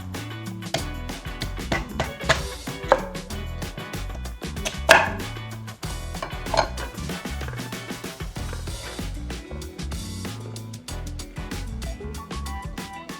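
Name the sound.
slicing raw beets with a knife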